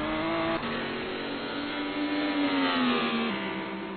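A GT Masters race car laps Silverstone with a clear engine note that climbs steadily through the revs, drops at a gear change and climbs again, loud and continuous, with no talk.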